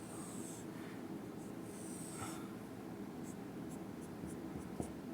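Pen or marker drawing by hand on a board during a botany lesson, faint scratchy strokes repeating in short runs over a steady low background hum.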